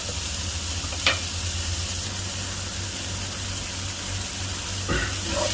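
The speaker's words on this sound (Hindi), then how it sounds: "अब मैं इसको 2 से 3 मिनट तक थोड़ा सौते करूंगा" Tomatoes sauté in a pan for chana chaat with a constant close sizzle over a low hum, and a couple of short scraping stirs break through.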